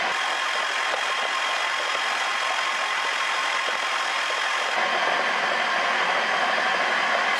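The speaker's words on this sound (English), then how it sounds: "So let's see if it cranks over." A seized 5.4 DOHC engine turns over under the starter, a steady, loud mechanical whir with a slight shift in tone partway through and no talk.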